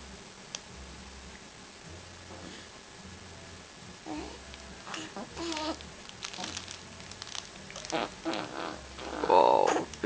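A baby on a play mat lets out a few short, low farts in a quiet room, with an adult voice talking nearby.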